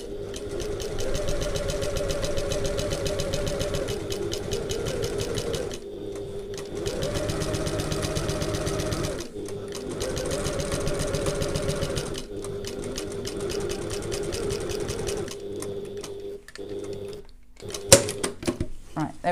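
A sewing machine stitches a handbag's exterior panel in long, steady runs broken by short pauses, loud and close, with someone talking over parts of it.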